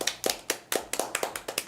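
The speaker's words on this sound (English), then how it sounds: "And random clapping." Scattered hand claps, about a dozen sharp, fairly evenly spaced slaps heard close, with no talking.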